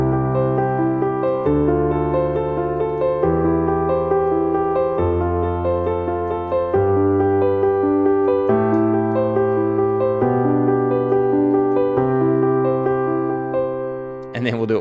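A piano plays a beginner worship-style pattern starting in the middle of the keyboard and moving down and then back up, with steady sustained chords and notes over about fifteen seconds, clear and close with no talking.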